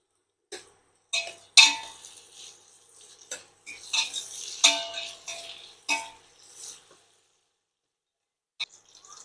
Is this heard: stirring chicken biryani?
yes